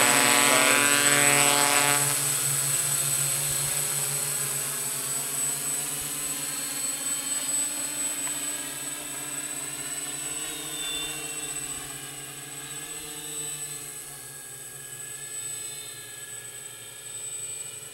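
A UAV-America MR6 hex multirotor drone hovers outdoors during a test flight, its steady whining propeller buzz holding loud and constant with slight pitch shifts as it maneuvers.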